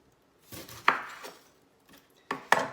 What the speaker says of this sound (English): cut this onion in half